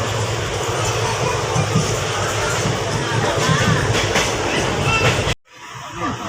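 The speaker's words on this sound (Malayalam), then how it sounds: "നമ്മൾ ഒലവക്കോട് റെയിൽവേ സ്റ്റേഷനിലാണ് ട്രെയിൻ കയറിയത്." Passenger train running out of Palakkad toward Palani, boarded at Olavakkode station, with a loud continuous rumble and rattle heard from on board that cuts off abruptly near the end.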